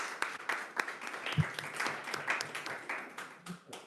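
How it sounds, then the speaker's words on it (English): Scattered clapping from a small audience at the close of a devotional lecture, faint and uneven, with a few louder individual claps standing out. "clap for yourself"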